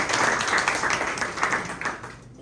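A live audience at a storytelling performance applauding, a dense burst of clapping up close that thins and fades away toward the end, with no voices over it.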